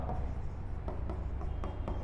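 Chalk or marker scratches points onto a board during a geography lesson in short, quiet strokes at a steady rhythm over a low room hum, with no voices.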